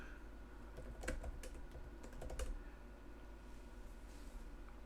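Quiet, close clicking of a computer keyboard while building an RC2014 Pro Pride computer, with short bursts of keystrokes around the middle and then calmer stretches.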